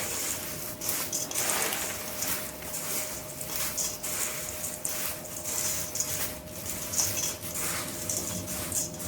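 A snack mixture is tossed in a bowl with salt, chili powder and cumin powder, giving repeated close scraping, rustling and light clinking strokes in an uneven rhythm. There is no talk.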